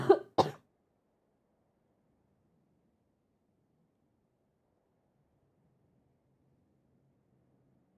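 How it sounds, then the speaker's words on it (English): A person gives two short, close throat-clearing coughs in quick succession, followed by near silence. "I've had the worst cough."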